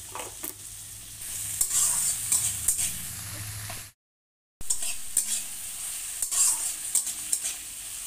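Chopped tomato fries in a pan with a little salt, crackling steadily while a spoon stirs and scrapes in repeated strokes. A short silent gap breaks it midway before the sizzling and stirring resume, with no voices.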